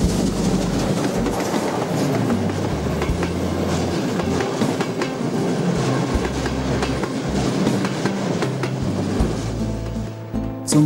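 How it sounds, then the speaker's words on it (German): A Berlin S-Bahn train winds from Alexanderplatz over Jannowitzbrücke toward Hauptbahnhof, with steady loud rumbling and rhythmic clickety-clack of wheels on rail joints throughout, no speech. "Hier schlängelt sich der Zug vom Alexanderplatz über Janowitzbrücke Richtung Hauptbahnhof."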